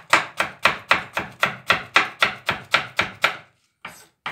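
Knife chopping sweet green pepper on a board: about fourteen crisp, evenly paced chops, close and loud, then a short pause and one more cut.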